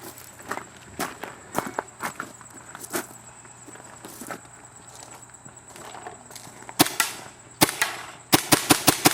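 An AGD E-Mag paintball marker fitted with a Warp Feed fires in mechanical semi-automatic mode, giving sharp, close, separate shots at irregular spacing, then a rapid burst of quick shots near the end, with no talking.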